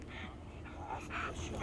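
Attack-trained dogs whimper and yip in short, faint bursts, with some muffled barking and panting close by. Quiet voices can be heard in the background.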